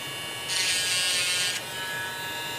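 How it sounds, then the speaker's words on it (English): An electric sander runs while filling a recess in a Star Trek TOS bridge model, a steady high buzzing burst of about a second alone over a faint background hum. "I just let my sander do the work, and make sure I clean it."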